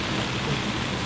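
Rain falling on a sailboat off Florida, a dense steady hiss of drops close by, loud and unbroken for a second with no voices.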